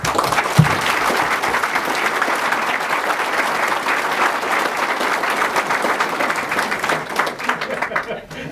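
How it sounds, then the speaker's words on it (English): A large audience applauds steadily for several seconds at a police chief swearing-in ceremony, a dense, even wash of clapping that tapers off at the end. "I'd like to take a moment to recognize their leadership with a round of applause, please"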